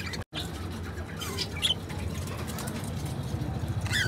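Budgerigars in a breeder's aviary give scattered bright chirps and short squawks over a low steady hum, moderately close and fairly faint.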